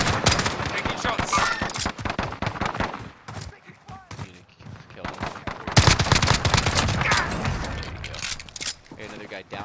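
Rapid bursts of video game gunfire in Call of Duty Warzone Rebirth, dense automatic volleys with brief pauses, loud and close, with voices talking over the shooting.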